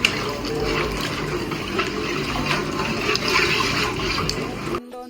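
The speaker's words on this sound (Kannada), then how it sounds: "ಸೊ ನೀರು ಹಾಕಿದ್ದೀನಿ, ಒಂದ್ಸತಿ ತಿರುಗಿಸ್ಕೊಳ್ಳಿ ಹೀಗೆ." Rice in water for mutton biryani is stirred in a pot, making continuous close sloshing and swirling that stops abruptly at the end.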